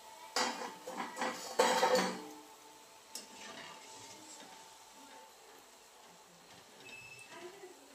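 Fried spinach bhajis lifted out of hot oil, with clattering metal utensil and pan knocks in a short close burst, then fading to faint quiet kitchen sounds.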